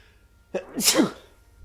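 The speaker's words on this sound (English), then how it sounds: "I'm probably gonna sneeze again." A single loud sneeze bursts out close by, a sharp intake followed by a forceful explosive release, then quiet.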